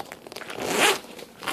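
Top zipper on a backpack being pulled open and shut, quick close rasps that swell into one longer zip and then fade, heard alone and fairly quiet.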